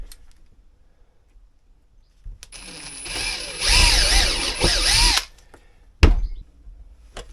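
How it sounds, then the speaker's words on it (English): A power drill drives a screw into a sunshade fitting on a Drascombe Lugger boat, one close, loud whirring run lasting a couple of seconds, followed by a sharp knock. "they screw in really quite well actually"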